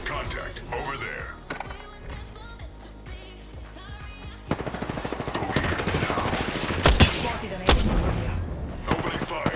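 Gunfire in the video game Apex Legends: dense bursts of rapid shots and booming impacts over a continuous game soundtrack, growing louder and busier midway, with sharp loud cracks near the end.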